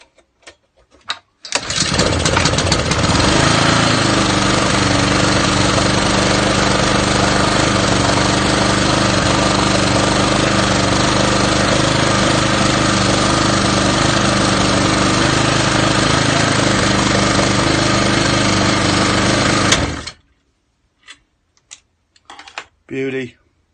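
A cheap Honda GVC135 small engine runs steadily at a loud, even pitch for close to twenty seconds after starting, then cuts off abruptly, leaving a few brief knocks and handling sounds.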